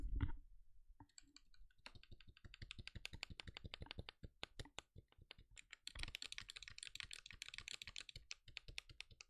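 Typing on a mechanical keyboard with Gateron Red switches lubed with Krytox 205 grade 0: fast runs of close, crisp key clacks with brief pauses, quiet and alone.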